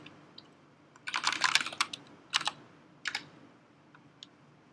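A new computer keyboard clatters in bursts of quick keystrokes, close and crisp, with short pauses between runs and a few isolated taps, nothing else around it.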